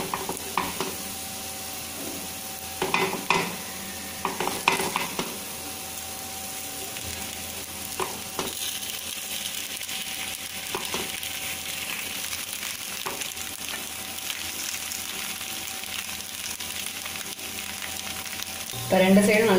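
Rava paniyaram batter fries in a kuzhi paniyaram pan with a steady sizzle, broken by scattered clicks and scrapes as the balls are turned over. A louder clatter comes near the end.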